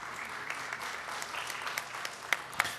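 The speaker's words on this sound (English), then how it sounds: "I'm going to ask that you hold your applause to the end" Scattered audience applause ripples through a Board of Education recognition ceremony, soft and somewhat distant, with a few sharper individual claps standing out near the end.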